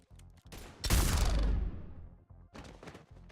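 A heavy blast of weapon fire in the video game Mass Effect 3 roars up suddenly and decays over about a second, with a few sharper shots before and after.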